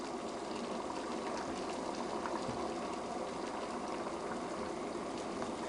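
Water with oats boils hard in an electric portable ceramic cooker pot, a dense, steady bubbling roar that stays close and even throughout, with no speech.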